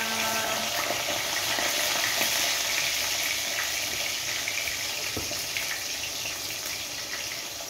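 Eggplant slices fry in a hot pan, giving a steady, dense sizzle that runs unbroken and close throughout, with faint scrapes and small clatters mixed in and no talking.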